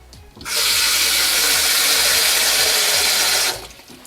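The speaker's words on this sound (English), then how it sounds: "pour in some water inside to see when any of the water can leak out" Water from a tap pours into a stackable airtight food storage container in a kitchen, a steady hissing splash that starts abruptly, holds evenly for about three seconds, then cuts off.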